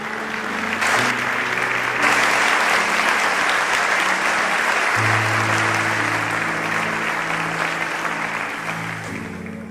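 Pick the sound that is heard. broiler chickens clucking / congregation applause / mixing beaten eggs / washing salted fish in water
congregation applause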